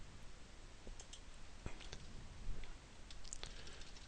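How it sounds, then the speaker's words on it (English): A computer mouse gives a few faint, crisp clicks, close and quiet, scattered over a low steady hiss with no speech. "I'm going to right click and create a table"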